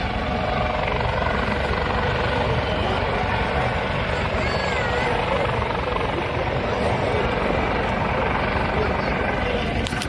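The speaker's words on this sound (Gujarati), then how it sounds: "જો હવે હેલિકોપ્ટર ઉતરે છે." A helicopter lands with a steady loud rotor drone throughout, constant and close, with faint voices mixed in underneath.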